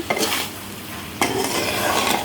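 Two close scraping strokes of a spatula through vegetable stems, broken boiled potatoes and tomatoes in a pan, over a low sizzle.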